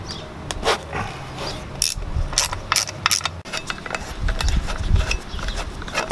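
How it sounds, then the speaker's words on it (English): A T40 Torx tool loosens the hat bolts on a front brake rotor, with close, repeated ratcheting clicks and metallic turning in short bursts. "Next, I'm going to loosen up all of the hat bolts. This one in particular takes a T40 Torx."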